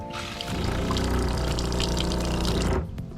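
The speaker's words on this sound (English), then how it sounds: "just turn the water pump on. We will hear it." A steady mechanical hum with running water pouring continuously for a few seconds, then cutting off abruptly near the end.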